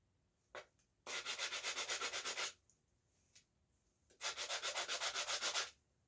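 Sanding the tip of a horse bow smooth before a sinew wrap: two long bursts of steady back-and-forth rasping strokes, close and fairly loud, with a few short scuffs in between.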